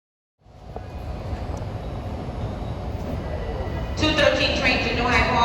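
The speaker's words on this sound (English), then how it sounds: "waiting for train 1706 for Huntington. It's coming in right now on track 7" Long Island Rail Road train 1706 for Huntington pulls into track 7 at Jamaica station, a loud rolling rumble building steadily, joined near the end by squealing brakes and wheel screech, with people talking nearby.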